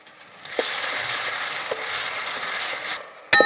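Chopped tomatoes sizzle in a frying pan with cumin and dried chilli, a soft, steady hiss of frying with a few small clicks and a sharper knock at the end, close and alone.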